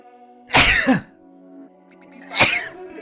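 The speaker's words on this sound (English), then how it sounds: "I'm going to sneeze." A single sharp, forceful sneeze bursts out, followed by a quiet pause and a second short, explosive burst, both close and loud over faint background hum.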